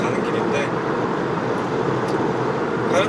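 A Chevrolet Aveo hatchback with a 1.6 manual gearbox cruises along Seoul's Olympic-daero expressway past the Jamsil railway bridge, giving a steady, even cabin drone of engine and road noise throughout.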